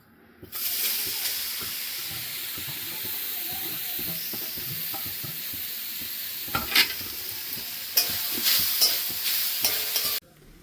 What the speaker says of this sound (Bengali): এবার কড়াই বসিয়ে দিয়েছি, কড়াইয়ের মধ্যে নারকেলগুলো দিয়ে দেবো।